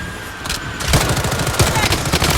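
Rapid bursts of automatic gunfire from an MP5 in the shooter game Blood Strike, close and loud, with dense overlapping shots and impacts running almost continuously.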